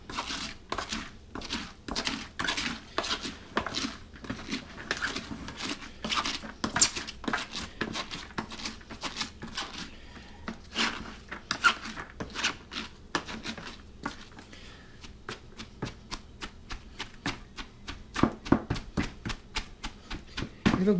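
Salted shredded cabbage for sauerkraut being stirred and tamped down in a container, giving a steady run of soft, crunchy thumps and crinkles. The strokes repeat quickly and evenly at close range, with no voices.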